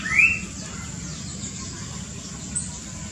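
A single bird chirps briefly in an aviary, a short high call near the start with a faint second note later, over a steady low background hum.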